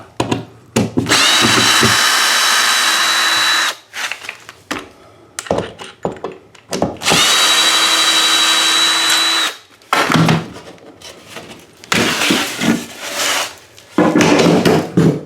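A power drill runs in several long, loud bursts, removing ledger boards during a bathroom renovation, with short pauses and clattering handling noises between runs.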